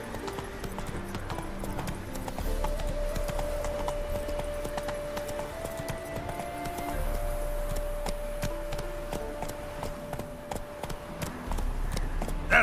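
Roach the horse's hooves clip-clop steadily in The Witcher 3, a continuous rhythmic gait heard at moderate loudness over soft game music tones, with no talking.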